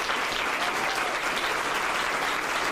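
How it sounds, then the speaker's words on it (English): A courtroom crowd applauding after a judge's sentencing, a brisk even clatter of many hands clapping, steady and moderately close for its short span. "Her decision was met with applause from the courtroom."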